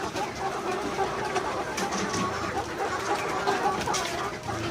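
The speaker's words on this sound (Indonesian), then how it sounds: "Ini ayam petelur ada 700 ekor." A large flock of about 700 laying hens clucks and calls inside a coop, a dense, continuous chorus of overlapping bird sounds filling the whole stretch at a steady level.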